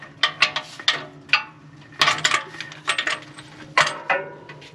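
Large 1 3/8 socket on a ratchet loosening a compressor oil drain plug, bursts of sharp metallic clicks and clinks in uneven rhythm, close and fairly loud.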